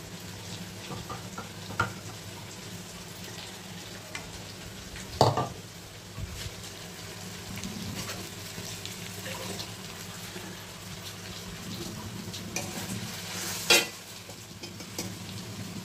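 Chicken for restaurant-style chicken chaap fries and is stirred in a kadai, giving a continuous close sizzle with scraping spatula strokes and a few louder knocks, while running water sounds faintly at times. No talking.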